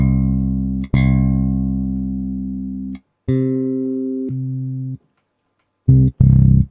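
IK Multimedia MODOBASS modeled bass played through an octaver effect: several sustained, deep synthetic-sounding notes with thick low octave tones, separated by short gaps and ending in a brief burst of quick plucks.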